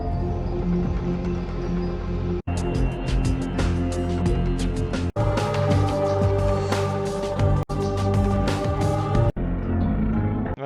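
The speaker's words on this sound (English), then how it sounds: "so then the downtown theme sounds like this normally" Downtown theme music from the video game Vampire: The Masquerade – Bloodlines plays loud and full, a driving electronic track with pounding beats and several abrupt cuts between sections, with no speech.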